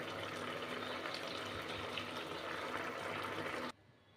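A thick, tangy elephant foot yam dish cooked with dates, raisins, tamarind and jaggery is poured into a container in a soft, continuous liquid rush that stops abruptly.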